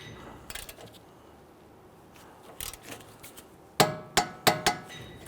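An impact wrench snugs the clevis fork bolt on a 2008-2013 Infiniti G37x during a front CV axle replacement. Quiet tool handling leads into four sharp, loud rattling bursts close by, with no talking.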